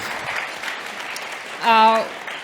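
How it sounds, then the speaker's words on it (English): An audience at a founders' pitch competition semi-final claps in a steady, continuous patter of applause, with a brief loud tonal beep cutting in near the end. "Give a round of applause for BeeSage."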